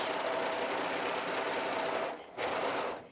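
A Viking Amber S 100 serger runs an overlock stitch, a loud even high-speed whir that dips briefly near the end before resuming, with no talking.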